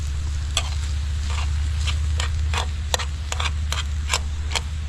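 Meat searing in a pan is stirred, giving a steady low sizzle with a series of sharp, regular utensil scrapes and clicks against the metal.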